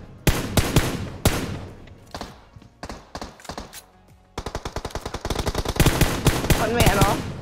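Automatic rifle fire from PUBG Mobile rattles in loud rapid bursts, a few single cracks early on and then a dense sustained volley near the end, with no talk over it.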